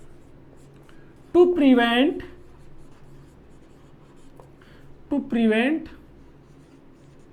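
Marker or chalk writing notes on a board during a nursing class, faint scratchy strokes running quietly throughout, interrupted by two short stretches of someone speaking.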